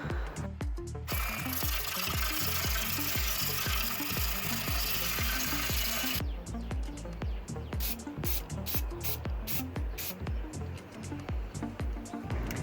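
Rapid rhythmic buzzing of a power sander taking paint off a Toyota AE86 dashboard, loud and close, with a brief steadier whirring stretch in the middle.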